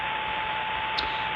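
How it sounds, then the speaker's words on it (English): Steady radio receiver static tuned to 27085, a constant hiss with a faint hum tone underneath, no voices, unchanging for the whole short stretch. "That noise you hear is the sound of Squamish radio waiting to happen."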